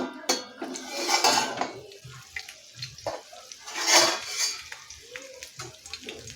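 A metal lid is lifted off a pan of steamed alu vadi in a kitchen, with clattering and scraping of cookware, a few sharp clinks and a faint sizzle in between.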